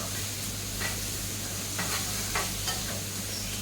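Zubaidi rice frying in a pan with a steady sizzle, broken by several soft scraping stirs, close and moderately loud, with no talking.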